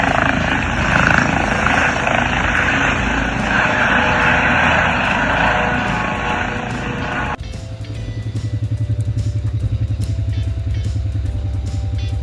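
A helicopter's loud, continuous rotor and engine roar fills the first seven seconds, then cuts to a different steady, throbbing motor drone up close.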